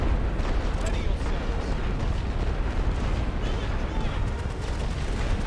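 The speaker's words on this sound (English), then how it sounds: "We're still getting hit with quite a bit of artillery fire." Artillery fire in the World War I strategy game The Great War: Western Front, a continuous loud rumbling barrage with dense overlapping blasts and crackling shots filling the whole stretch without pause.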